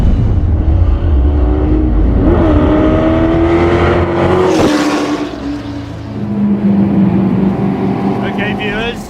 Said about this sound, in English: this is an actual GT40 that competed at Le Mans in 1966